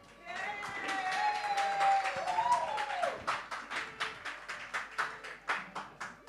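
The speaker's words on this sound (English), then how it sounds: "Terry Hall, everyone, round of applause." An audience at an evening creative arts event claps in a steady rhythm after some brief tonal vocal sounds, and the claps grow into a clear, evenly spaced beat that carries to the end.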